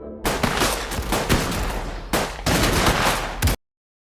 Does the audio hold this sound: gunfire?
yes